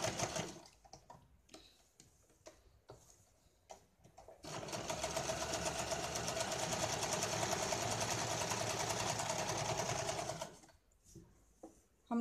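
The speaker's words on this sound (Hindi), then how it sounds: "ये जो दूसरी साइड है उसको भी हम स्टिच कर लेते हैं।" A sewing machine double-stitches a seam on an apron, running in one steady, fast burst of about six seconds between quieter handling sounds of fabric.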